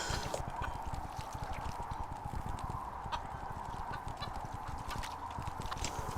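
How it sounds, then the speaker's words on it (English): A chicken in the video game Neverwinter clucks in a loud, honking series, with many quick clucks repeating steadily for several seconds. Background game noise sits underneath. "Cluck, cluck, cluck."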